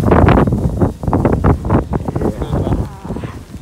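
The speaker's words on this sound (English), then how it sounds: "It's so cold and windy." Gusty, cold wind buffets the microphone with loud, low rumbling bursts outside the Nintendo Tokyo store on opening day, while a voice talks underneath.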